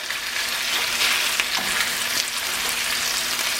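Gochujang chicken pieces frying in a pan, a loud, dense and steady crackling sizzle close by, with a few brief scrapes, continuing unbroken throughout with no voices.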